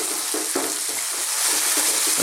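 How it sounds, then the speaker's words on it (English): Thinly sliced chicken stir-frying in a wok on highest heat, a loud close hiss with rhythmic tossing and scraping strokes repeating every fraction of a second. "on this kind of highest heat, let's throw this around in the pan, stirring all the time"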